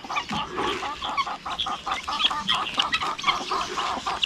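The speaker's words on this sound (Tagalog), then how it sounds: "May sisiw naman tayo ng pato." A noisy brood of newly hatched ducklings and guinea fowl keets calls together with other poultry, a dense, continuous mass of overlapping high peeps and chirps at close range, with no talking.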